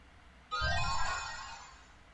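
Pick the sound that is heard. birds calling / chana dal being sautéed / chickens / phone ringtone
phone ringtone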